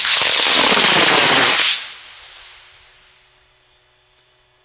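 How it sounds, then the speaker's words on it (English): A high-power model rocket on an H178 Dark Matter motor lifts off with a loud, harsh crackling roar for under two seconds, then fades steadily into the distance. "He's flying an H178 dark matter motor on pad RC number 5"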